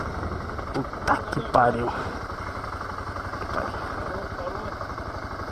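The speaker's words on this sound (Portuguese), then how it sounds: "Pode desligar a moto?" A motorcycle engine idles with a steady low rumble throughout during a police stop, while a man curses briefly over it.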